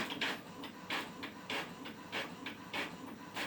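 A printer runs through a job, with a rhythmic series of soft mechanical swishes and paper-feed pulses repeating roughly every half second, fairly quiet and alone.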